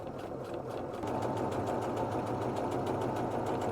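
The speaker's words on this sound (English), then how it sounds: "I'm just going to stretch the elastic as I sew, and I'm just using a straight stitch to do that." A sewing machine runs a straight stitch while stretched elastic is sewn onto a trouser waistband, a steady fast mechanical whirr with a rapid regular needle rhythm, close and continuous with no pause.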